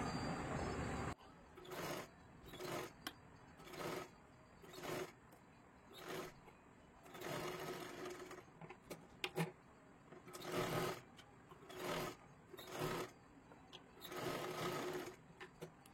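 A sewing machine stitches a katori blouse in repeated short bursts of fast rhythmic whirring separated by brief pauses, close and fairly faint.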